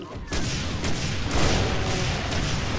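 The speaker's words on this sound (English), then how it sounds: "What are these explosions?" Dense, continuous blasts and gunfire from the Brutal DOOM video game roar in rapid bursts with heavy low booms, loud and chaotic throughout.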